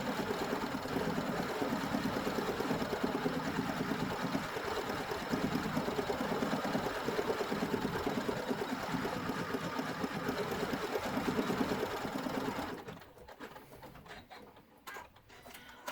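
An embroidery machine stitches a vinyl zipper bag held in the hoop, a steady close mechanical whirr and patter that runs for about thirteen seconds, then stops, leaving only faint shuffling handling noises.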